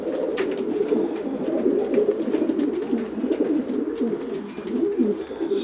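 Racing pigeons coo steadily inside a stacked-box loft, a continuous murmuring chorus of low throaty calls from several birds close by, with no talk over them.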